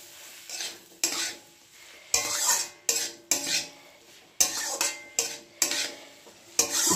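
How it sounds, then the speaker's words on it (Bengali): A utensil stirring poppy seed paste into a sizzling pan of winter vegetable gravy, repeated close scraping and clinking strokes in an irregular rhythm over a soft sizzle. "পোস্তটা দিয়ে মিশিয়ে দেবো আমি।"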